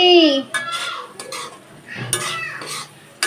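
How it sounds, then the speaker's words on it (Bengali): A utensil clanks and scrapes against a pot as spices fry with water for a chana dal curry, producing several sharp metallic knocks and stirring scrapes at irregular intervals, close by with no talk. "এখন পানি দিয়ে মশলা ভাজছি।"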